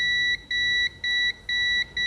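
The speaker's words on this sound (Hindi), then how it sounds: "बीप की रेंज से आपको दिखा देता हूँ।" Multimeter on its continuity beep range testing a point on a Samsung Galaxy F23/M23 phone board, giving a string of rapid, evenly spaced high electronic beeps that sound alone and close.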